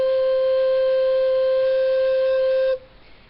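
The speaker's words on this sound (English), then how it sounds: "So the low C with all the holes covered sounds like this." A recorder sounds low C with all holes covered, a single steady, pure held note lasting under three seconds before it stops abruptly. The note plays alone, close and clear, with no talking.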